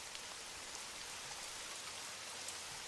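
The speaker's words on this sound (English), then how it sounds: "stepping back out into the rain" Steady rain on a city street on a Paris evening, a dense, even hiss of falling drops with no voices, constant and fairly soft throughout.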